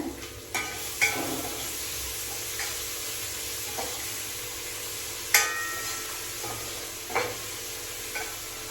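Garlic-ginger paste sizzling in a hot pan, a steady frying hiss punctuated by several sharp clinks and scrapes of a utensil stirring against the pan.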